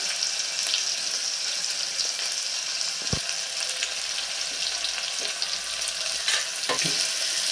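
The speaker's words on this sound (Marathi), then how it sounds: "आता इथे टोमॅटो सुद्धा आपल्याला शिजवून घ्यायचं आहे किंवा परतून घ्यायचं आहे" Tomatoes sautéing in a pan for potato curry give a steady, loud hiss of frying, with occasional faint scrapes and a single knock partway through.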